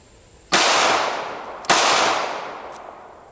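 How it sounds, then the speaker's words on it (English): Two sharp, loud gunshots from an IC380 cell phone gun, a .380 pistol, fired about a second apart outdoors, each cracking hard and trailing off in a long echoing decay. "this is the first shot with the IC380"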